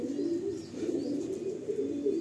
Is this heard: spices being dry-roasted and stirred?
no